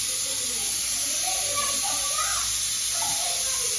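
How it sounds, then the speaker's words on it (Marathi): A pressure cooker on a home kitchen stove vents steam in a loud, steady hiss with a thin high whistle running through it, while faint voices murmur underneath for a few seconds. "कुकरची पण एक शिट्टी झालेली आहे"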